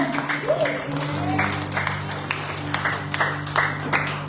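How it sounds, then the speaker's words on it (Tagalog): A church congregation claps during a Sunday worship service, a light scattered patter of hands under a steady hum, with a voice speaking over it. "Isa nga pong malakas na palakpak po para po sa Panginoon"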